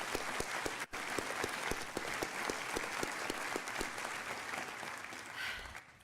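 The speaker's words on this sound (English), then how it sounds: "Let's give them a round of applause." Crowd applauding graduating students at a high school graduation ceremony: sustained, fairly distant clapping from a large audience, steady throughout with a few louder individual claps popping out.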